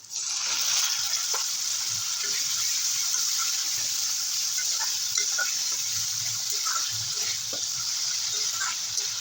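Fish curry masala with salt, turmeric and a splash of water sizzles steadily in a pan, a bright continuous hiss with scattered pops and soft scraping throughout, close and fairly loud with no talking.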